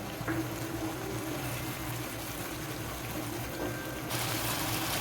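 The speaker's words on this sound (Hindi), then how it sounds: "और हल्का सा पानी डालेंगे ताकि हमारा चिकन गल जाए अच्छी तरह से।" A little water is poured into a pan of chicken cooking with soy sauce, vinegar and black pepper, giving a steady close sizzle and trickle that swells slightly at the end.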